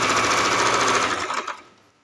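A sewing machine stitching a blouse runs in a fast, loud, even chatter up close for over a second, then slows and stops.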